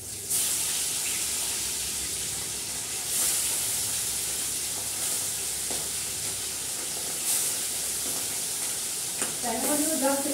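Tangra fish frying lightly in a pan, giving a steady, even sizzle and hiss that runs unbroken throughout, with a faint clatter of utensils near the end.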